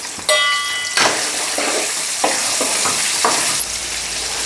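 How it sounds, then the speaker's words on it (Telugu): Soya chunks fry in hot oil for a brinjal and soya vegetable biryani, with a steady sizzle broken by several close, sharp scrapes of stirring in the pan. "సోయాను కూడా ఇట్లనే నూనెలో కొద్దిగా వేపుకోవాలి."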